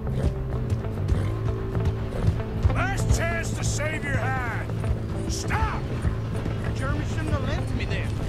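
Horse hooves clip-clopping at a run in the Red Dead Redemption 2 video game, a steady galloping patter under continuous game music and a voice talking over it.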